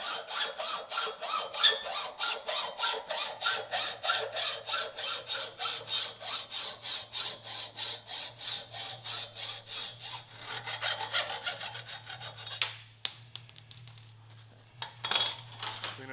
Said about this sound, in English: And we take a hacksaw. Just kind of use the edge of that shoulder as a guide. You can just hacksaw it right off.